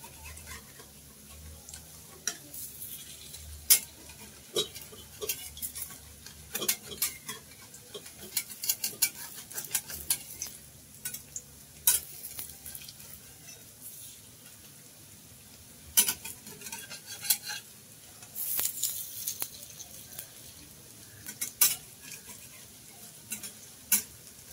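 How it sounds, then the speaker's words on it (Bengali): Cabbage vegetarian fish pieces shallow-frying in oil on a low flame: a quiet continuous sizzle with scattered crackles and pops throughout. "এখন বাঁধাকপির নিরামিষ মাছগুলো ভেজে নেব।"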